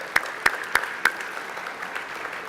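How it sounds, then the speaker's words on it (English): An audience at a 2016 gala ceremony claps in a brief burst, a few sharp distinct claps at first and then a thinner, scattered patter that fades over a couple of seconds. "Let's give them all a round of applause for supporting the event tonight."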